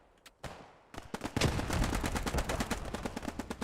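Gunfire in the World War II shooter Post Scriptum: a few scattered shots, then rapid, dense bursts of rifle and machine-gun fire rattling close and loud with no voices.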